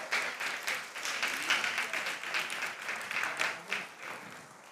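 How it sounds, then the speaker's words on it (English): School audience at a quiz or contest between teams in Tamale claps steadily for a few seconds, a soft, fairly distant patter of many hands that fades slightly at the end. "Please clap for them."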